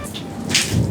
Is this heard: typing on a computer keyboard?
no